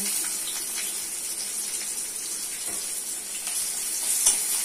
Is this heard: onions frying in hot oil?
yes